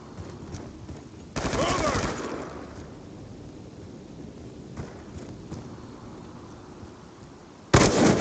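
Gunfire in Black Ops 2, heard as a loud burst of shots around the one-to-three-second mark and another sharp burst at the end, over steady low game ambience.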